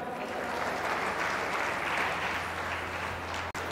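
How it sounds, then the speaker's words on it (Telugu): An audience at a stage event welcomes a guest with steady, sustained clapping, a dense wash of hands that fills the whole stretch with a faint low hum beneath. "గట్టిగా చప్పట్లు."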